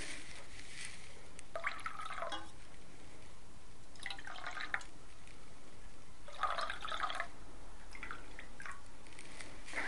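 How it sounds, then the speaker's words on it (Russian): Kangen water is poured into small cups in several short, quiet splashing bursts separated by near-silence, close and soft with no talking. "Добавим немножко кангин воды в каждый стаканчик."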